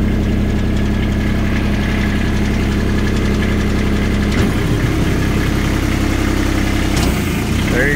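A 2009 Kubota RTV900W diesel side-by-side runs steadily at idle with a close, loud, even diesel clatter, and its pitch shifts briefly about midway through.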